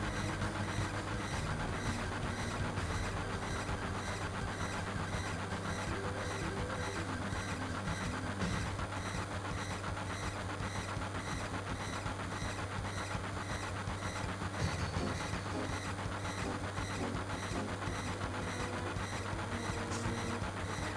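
Train cars roll steadily through Final Fantasy VII, a continuous dense rumble with a low engine drone and faint rhythmic rail clatter, even and loud throughout with no talking.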